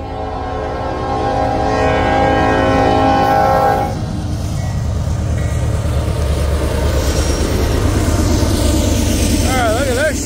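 Freight train of boxcars climbing a steep grade on the Rat Hole line, with a loud, sustained horn blast over the rumbling engines and rolling cars, continuing at close range after the horn stops; a voice speaks briefly.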